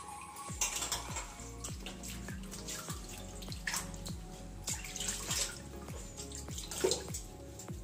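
Water splashes and trickles in a basin as taro leaves are rinsed by hand, with repeated sloshing and dripping close by.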